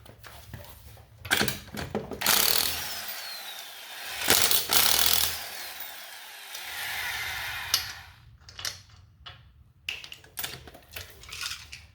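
An electric impact tool removes the lug nuts from a Mazda CX9 wheel in several loud whirring, rattling bursts with pauses between, plus nearby clinks and handling noises.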